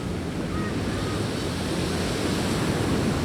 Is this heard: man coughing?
no